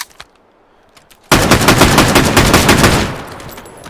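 A shotgun fires in rapid succession in the H3VR virtual-reality shooting game, a loud sustained burst of blasts lasting under two seconds, then dying away with a few faint clicks before it.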